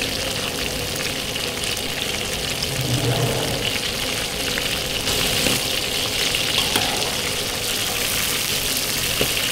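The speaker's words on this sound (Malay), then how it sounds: "Udang goreng kunyit pek ni dia kena goreng garing je dah." Steady, crackling sizzle of turmeric shrimp frying in hot oil fills the whole stretch, loud and continuous with occasional soft stirring.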